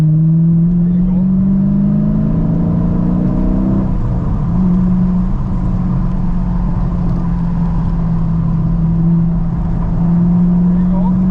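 A heavy, powerful race car on a track day holds a steady droning engine tone that swells as the throttle is fed, loud and close with a voice talking over it.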